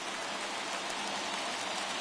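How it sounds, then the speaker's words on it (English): Steady rain pours down during a Cincinnati Reds vs Kansas City Royals baseball game, a dense, even hiss that fills the whole stretch with no voices. "with the rain coming down"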